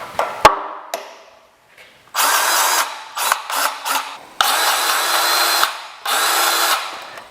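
A DeWalt cordless grease gun whirs in several loud bursts of varying length, separated by short pauses and clicks, used on a John Deere backhoe.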